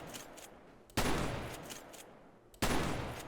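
Shotgun blasts in the game SAMP, two sharp loud reports about a second and a half apart, each with a decaying tail, over faint background noise.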